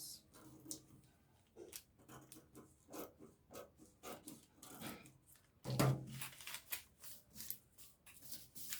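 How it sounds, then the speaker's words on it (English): Scissors snipping through a paper pattern piece for a bustier with yoke, a steady run of close, dry rasping cuts and rustling paper, uneven in rhythm, with one louder crunch partway through and no talking. "Then I'm also going to cut out this part."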